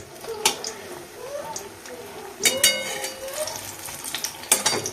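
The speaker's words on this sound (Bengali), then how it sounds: "এখানে গরম গরম বেগুনি ভাজা হচ্ছে" Beguni, brinjal fritters, frying in hot oil at a home birthday celebration, a soft continuous sizzle under a person talking, with occasional clinks of utensils.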